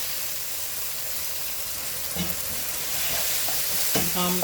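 Bahamian rice mixture fries in a hot pan, with a steady hiss of sizzling throughout and a spoon occasionally scraping and stirring as the mixture is broken down, near and moderately quiet.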